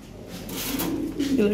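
Lahori Sherazi pigeons coo in a breeding loft, a soft low cooing that swells toward the end under steady background noise; a voice is faintly present in the room.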